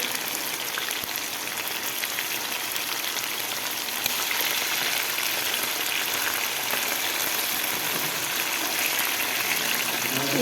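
Chicken breast fillets and mushrooms frying in a pan on the stove, giving a steady, dense sizzle and crackle that holds throughout and grows slightly louder partway in, with no talking over it.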